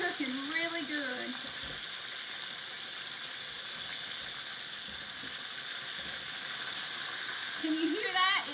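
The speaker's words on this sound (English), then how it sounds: "It's still sizzling when I'm turning it over, so it's not done yet." Southern fried chicken sizzles steadily in a hot frying pan, a continuous bright hiss, with a person's voice briefly over it at the start and end.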